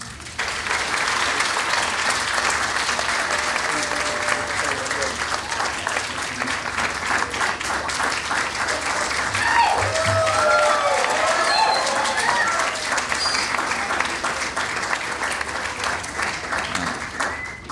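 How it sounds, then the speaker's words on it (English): A crowd at a Stand for Children Memphis membership gathering applauds as the mayor is welcomed, producing a dense, steady wash of clapping that holds for nearly eighteen seconds, with scattered voices and cheers blended in. "Please give him a hand please give him a handstand."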